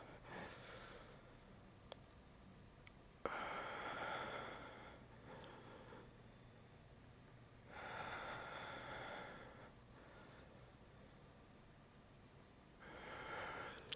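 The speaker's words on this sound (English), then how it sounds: "Exhale to come back up." Breath exhaled during a yoga side bend exercise, heard as several soft, airy breaths in separate bursts, near and fairly quiet, with pauses between them.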